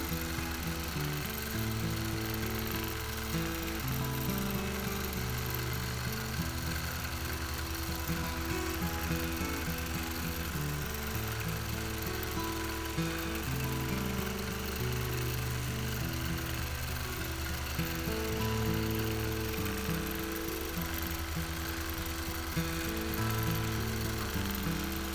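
A sewing machine runs steadily while quilting a pillow top made from spliced batting scraps, its rapid needle chatter continuous and close, with slight changes in speed and no talking.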